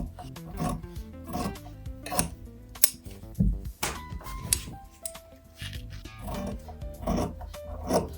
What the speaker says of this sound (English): I'm gonna trim this edge just so it's a little bit more even and less